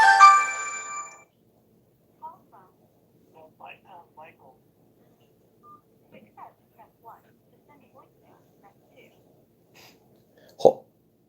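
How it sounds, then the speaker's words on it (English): A phone ringtone sounds briefly and loudly at the start for about a second as a call comes in, followed by quiet sparse speech and small sounds. "we're getting a phone call already"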